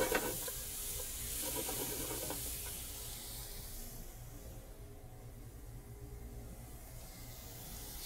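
Mushrooms for a stuffing sizzle and brown in a pan, a steady loud frying hiss with stirring scrapes early on that settles into a softer continuous sizzle.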